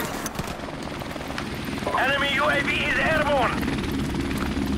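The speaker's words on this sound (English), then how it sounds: "chopper, chopper," A helicopter in Call of Duty 4: Modern Warfare makes a continuous rotor drone with a warbling, rising and falling tone in the middle, while a voice talks over it.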